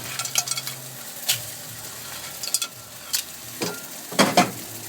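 Korat noodles with meat being stir-fried in a pan, a soft continuous sizzle broken by repeated clattering scrapes and taps of a spatula against the pan, close and up front.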